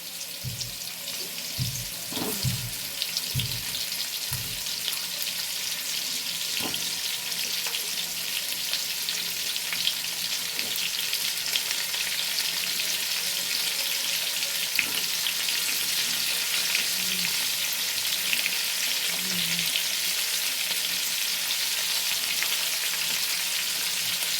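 Onions and potatoes fry in oil in a pan with a soft, continuous sizzle, punctuated early by a few knocks and scrapes of a spoon, then settling into a steady hiss at moderate level with no talking.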